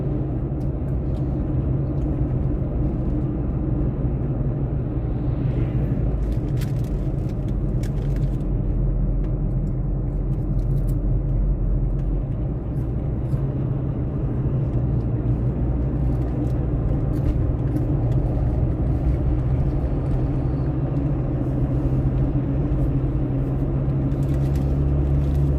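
Kenworth truck driving along a road, a steady, loud low rumble of engine and tyre noise that continues without a break and with no voices.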